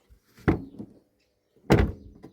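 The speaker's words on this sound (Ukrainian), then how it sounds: "Так, закриваємо двері." Two heavy thunks of a Daewoo Lanos car door being shut, a little over a second apart, close and fairly loud.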